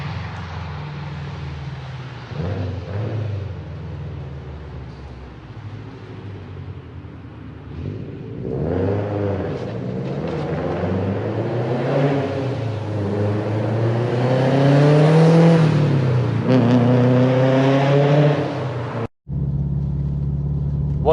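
Heavily modified 2.1 stroker 456bhp Subaru Impreza WRX STI accelerates hard through rising, swooping gear pulls, its engine note climbing loudly and then cutting off abruptly near the end.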